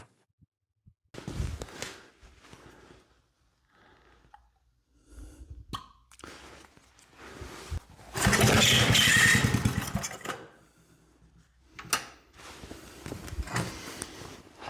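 A small cheap flea-market engine sputters briefly after fuel is squirted into the carburetor: a few scattered pops and coughs, then one loud, ragged burst of firing for about two seconds before it dies, with quieter pulls around it.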